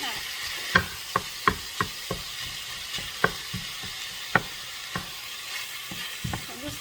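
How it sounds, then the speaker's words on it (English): Ground meat browns in a pan for shepherd's pie, a soft steady sizzle broken by a run of sharp spatula knocks and scrapes at irregular intervals, close by, with no one speaking. "So I'm just going to let this brown,"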